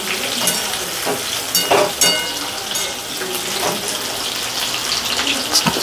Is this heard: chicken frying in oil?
yes